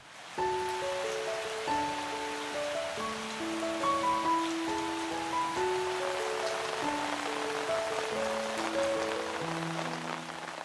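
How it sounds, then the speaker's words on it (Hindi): Steady morning rain falls outside an old hillside house, a continuous soft patter and hiss across the whole stretch with no voices. "आज बाहर देखिए बारिश लगी हुई है"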